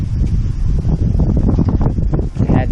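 Strong gusts during Hurricane Dorian buffet the microphone at a home porch, a loud continuous roar with rustling surges and no voices.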